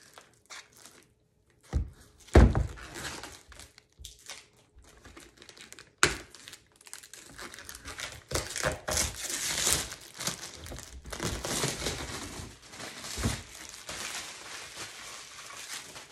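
Plastic covering being pulled off the self-empty base of an iHome Luna Pro robot vacuum, close crinkling and rustling in bursts with a few sharp thumps, growing busier and denser toward the end.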